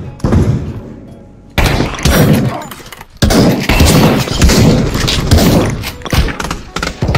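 Repeated loud gunfire from a Desert Eagle pistol in the virtual reality game CS:GO VR, sharp bursts crowding the clip in close succession with game noise between shots.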